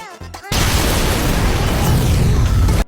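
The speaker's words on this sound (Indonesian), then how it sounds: "Dan juga diiringi oleh piring UFO itu akan meledak." After a brief electronic tone, a loud, sudden blast of an exploding UFO in an anime erupts into a sustained roaring explosion that stops abruptly about two seconds later.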